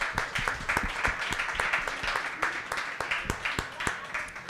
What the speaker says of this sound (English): give a big round of applause